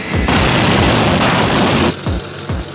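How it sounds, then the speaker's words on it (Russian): A Tunguska anti-aircraft system fires its autocannons in a loud, dense sustained burst lasting nearly two seconds, then a few separate heavy booms trail off. "«Стрельбу выполняю автоматами!"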